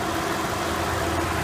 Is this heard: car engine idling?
yes